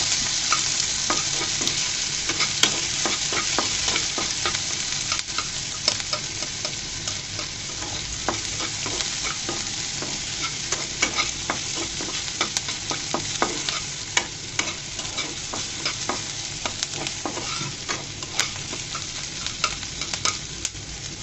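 Chopped onions and garlic frying in a pan give a steady close hiss and crackle, with frequent sharp taps and scrapes from stirring throughout.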